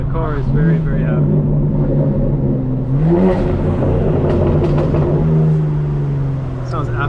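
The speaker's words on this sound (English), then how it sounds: "at 65 degrees the exhaust sounds incredible" A 2024 BMW M4 Competition xDrive G82 exhaust drones steadily with a rise in revs partway through, loud and continuous under a voice talking from inside the car.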